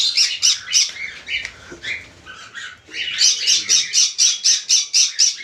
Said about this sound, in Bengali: এখানে পাইনাপেল কোনোর আছে, লাভবাট আছে, আর ককাটেল আছে।